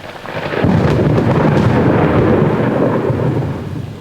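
A heavy thunderstorm with a deep rolling rumble of thunder swelling over dense, loud, hissing rain, continuous and close, no voices.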